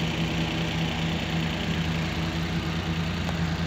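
Suzuki DA64V van engine idling, a steady low rumble with a faint vibration and even, continuous tone throughout, close by and alone with no talking.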